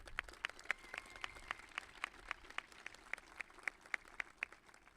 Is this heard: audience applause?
yes